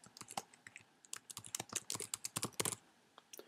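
Rapid bursts of key presses on a computer keyboard as a name is typed, irregular clicks that cluster densely in the middle, close and quiet with no talking.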